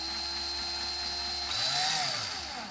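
A power drill whirs steadily while backing a screw out of wood during a field goal build, its motor pitch rising and then sagging, close and alone.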